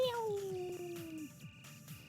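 A cat meows once in a video game, a long, falling drawn-out cry, clear and fairly close, with faint rhythmic game sounds underneath.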